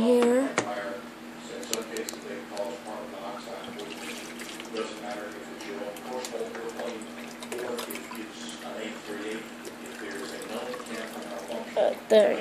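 Water trickles and splashes steadily as it is poured, with a person talking quietly over it.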